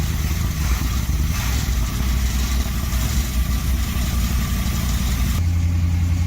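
Van engine idling after being revived from a stuck state, with moisture-laden exhaust; a steady, loud, low rumble runs throughout, dropping to a deeper, smoother drone near the end.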